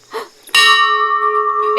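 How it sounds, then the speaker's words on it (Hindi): A metal bell hangs at a temple entrance and is struck once, giving a loud, clear ring that sustains and hums on after a brief muffled sound just before the strike. "सब घंटी बजा रहे।"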